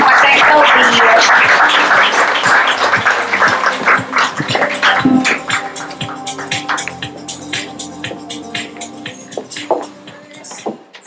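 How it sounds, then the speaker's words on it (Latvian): Audience applause at a talk on cellular anti-age cosmetology, a loud, dense clapping that thins out gradually into scattered individual claps over about eleven seconds. "Tad ar aplausīm mēs varam pateikt paldies!"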